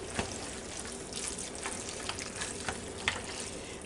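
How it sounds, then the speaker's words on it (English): A stiff spatula stirs pasta and ground beef in a hot pan, giving a steady frying sizzle with soft scraping and a few light clicks. "I'm going to go back and get my same little spatula. And we're just going to stir this up right quick."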